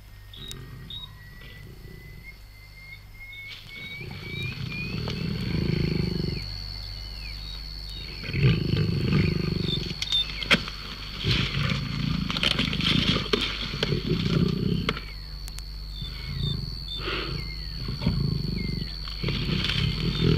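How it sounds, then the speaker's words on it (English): A large African lion growling low and rumbling as it feeds on a carcass, in repeated close bursts with scraping and crackling of the kill between them, in a quiet wild setting with no speech. "the big lion eats steadily on, growling his special warning that others should keep away until he's had his fill"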